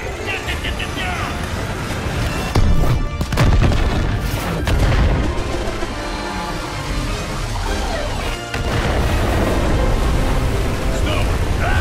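Heavy booming blasts and rumbling energy discharges from a titan charging up and firing in a cooperative Overwatch 2 story mission set in Gothenburg, loud and sustained, with character voices talking over the action.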